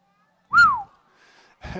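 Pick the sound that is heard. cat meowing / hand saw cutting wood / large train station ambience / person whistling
person whistling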